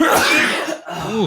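A sudden, loud, breathy sneeze close to the microphone, forceful enough to overload it, followed by a brief pause and a short voiced exclamation.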